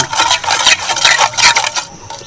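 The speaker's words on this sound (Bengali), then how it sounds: "এবার এই তিনটে উপকরণকে খুব ভালোভাবে মিশিয়ে নেব" Sugar, oil and water being stirred together in a large bowl for homemade wheat biscuits, a loud close-up swishing and scraping in quick, irregular strokes that fades near the end.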